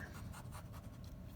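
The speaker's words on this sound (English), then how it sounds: "I'm going to do one more problem that I'm writing down here." A math problem being written out, faint scratchy strokes of a pen across the surface in short quick bursts, quiet and close with no talking.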